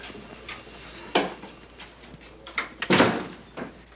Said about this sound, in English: You want me to close the door?